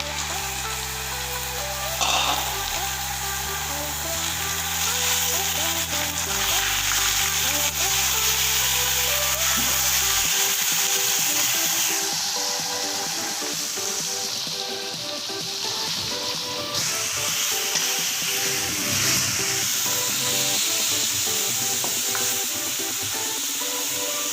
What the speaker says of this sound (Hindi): इसको 10 मिनट भूनेंगे इस तरह।